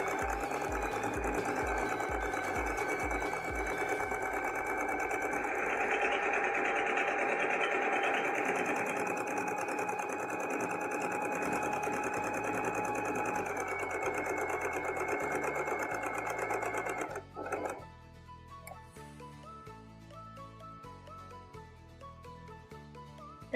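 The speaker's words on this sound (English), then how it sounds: "we're going to head to the sewing machine and sew a line all the way around 5/8 of an inch away from the raw" A domestic sewing machine runs steadily, stitching a dress sleeve hem in a long continuous whirring hum that stops abruptly, followed by quieter clicks and handling sounds.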